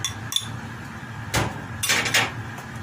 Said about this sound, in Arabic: نقلبها كويس قبل ما احنا نحطها على المكرونه